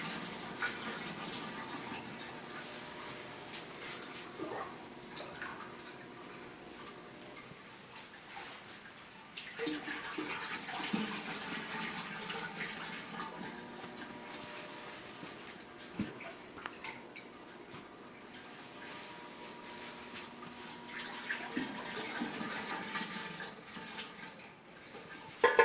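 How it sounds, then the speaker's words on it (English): Sugar and water syrup poured into juice, a continuous soft trickling and splashing of liquid with drips, rising and falling in intensity over about twenty-five seconds. "Just keep adding syrup."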